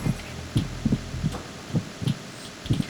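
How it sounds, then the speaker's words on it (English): Normal heartbeat sounds from the video game Metal Gear Solid 2: steady, soft double-thump pulses at an even rhythm over a low background hum, with no voices. "what kind of normal heartbeats sound like."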